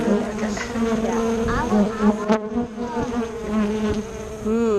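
Honey bees hum in a beehive, a dense, steady droning buzz close by with wavering pitch as individual bees pass near, continuous throughout.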